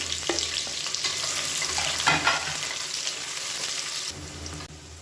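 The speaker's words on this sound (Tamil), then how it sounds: "நல்லா ஒரு கைப்பிடி அளவுக்கு பெரிய வெங்காயம் நீளமான சேர்த்து வதக்கி வச்சுக்கலாம்" Long-sliced big onions sautéing in a frying pan for a simple South Indian lunch dish, a loud steady sizzle with occasional scraping stirs, a few clacks and a brief drop near the end.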